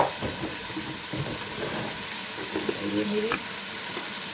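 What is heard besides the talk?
beef paye frying and sizzling in a pot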